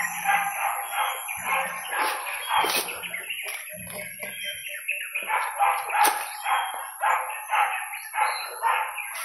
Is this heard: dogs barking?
yes